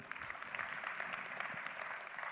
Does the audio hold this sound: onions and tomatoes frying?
no